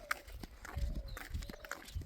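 Hooves of a horse pulling a cart clop steadily on a road, a rhythmic series of dull thuds with faint harness rattle and road rumble, moderately near.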